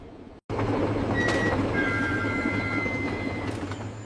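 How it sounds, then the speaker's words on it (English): A train slowing down, a loud steady rumble of rolling wheels with thin squeals of wheels on rail rising over it, beginning abruptly after a brief silence and running on without voices. "the train slowed unexpectedly"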